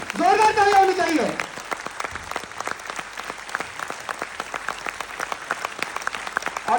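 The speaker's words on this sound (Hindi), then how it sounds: "भोलेनाथ यार तालियां तो बजाओ भाई, जोरदार तालियां होनी चाहिए।" Loud audience clapping fills a business seminar hall. It follows a brief shouted voice at the start and continues as steady, dense applause to the end.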